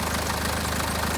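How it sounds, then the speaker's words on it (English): A BMW M Sport Touring diesel engine with a worn timing chain rattles and clatters steadily, a dense continuous metallic racket sitting over a low idle hum, close and fairly loud with no talk. "So basically it sounds like well, a bag of spanners, but it's diesel"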